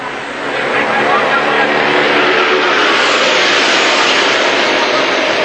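Formula Vee race cars running flat out around the Amaroo circuit make a dense, continuous roar of engines at full throttle, loud and unbroken, with a race commentator talking over it.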